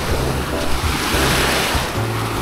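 Sea waves washing onto a sandy, stone-free resort beach in Sariaya, Quezon, a steady loud surf roar with low rumbling swells and some wind buffeting the microphone.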